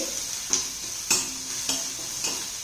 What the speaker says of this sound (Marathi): कांदा हा लालसर होईपर्यंत चांगला परतून घ्यायचा आहे।